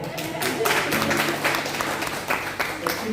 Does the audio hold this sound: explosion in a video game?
no